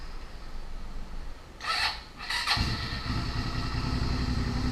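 A new motorcycle engine warms up, revving briefly with a rising whine, then settling into a steady, loud, close idle rumble.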